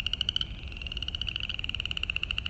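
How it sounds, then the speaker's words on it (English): Frogs croak in a steady, rapid pulsing chorus from woodland along a disc golf course, a continuous rhythmic chirring that sounds moderately distant and carries on alone without any voices. "you'll be able to hear all the frogs."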